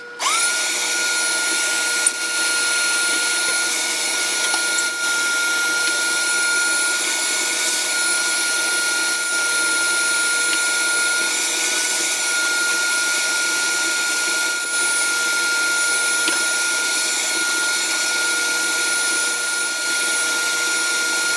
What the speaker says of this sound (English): So I'm going to drill this all the way through.